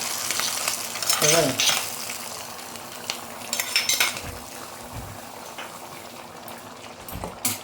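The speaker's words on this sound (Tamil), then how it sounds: "தேங்காயை எண்ணெயிலே பொரிச்சிட்டு இதில் கொட்டணும்" Grated coconut sizzles steadily in hot oil in a pan for Kerala pumpkin erissery, with a spoon clinking and scraping against the pan throughout. No one speaks.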